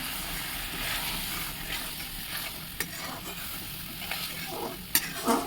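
Spiced pan frying steadily with Kashmiri chilli powder as potatoes go in, a continuous broadband sizzle with soft stirring scrapes and a couple of sharper clinks near the end.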